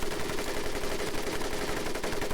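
Sustained machine gun fire from a .30 caliber weapon in the World War II shooter Medal of Honor: Pacific Assault, a rapid continuous stream of shots hammering without pause, loud and close.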